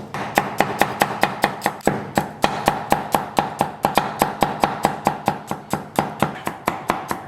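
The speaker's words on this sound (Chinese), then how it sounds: "把大蒜给它切成小片儿。" A knife chops garlic into thin slices on a cutting board, about two dozen crisp, evenly paced strikes in a steady rhythm, close and clear with no talking.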